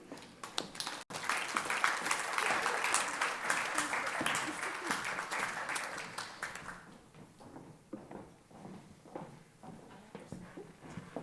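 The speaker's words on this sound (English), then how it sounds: "Please give all these students a nice round of applause." An indoor crowd at a high school FFA awards ceremony breaks into dense, lively applause for award-winning students. It holds steady for several seconds, then thins into scattered individual claps, with a voice speaking faintly underneath.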